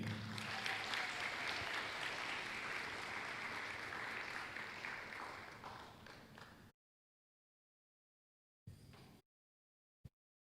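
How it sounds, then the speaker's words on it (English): An audience at a high school graduation ceremony applauds for about six seconds, a dense steady clapping that fades out, followed by silence and a couple of brief faint bumps. "Once again, can everybody give them a round of applause?"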